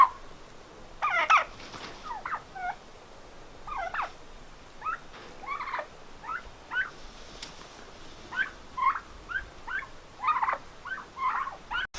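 Blue Slate turkeys gobbling in a pen, a series of short bubbling gobbles and calls repeating irregularly every second or so, moderately close, with quiet background between calls.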